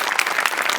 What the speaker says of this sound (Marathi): तुझ्यासाठी स्पेशल टाळ्या.